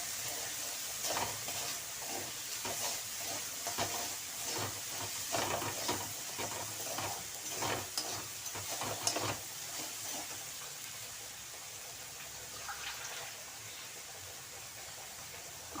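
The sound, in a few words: sautéing spice mix with rice in pan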